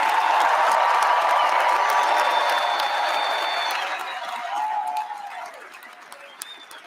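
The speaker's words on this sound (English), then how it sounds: "please join me in celebrating the talent and congratulating all of this year's Grammy nominees with a resounding round of applause" A large audience at the 2022 Grammy Awards claps and cheers in a loud, dense wash of applause. It stays full for about four seconds, then thins and fades toward the end.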